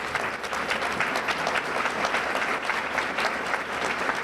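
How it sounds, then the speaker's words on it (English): A roomful of people applauds deans and faculty members at an evening ceremony, with continuous dense clapping at full strength from start to finish. "let's give them a round of applause."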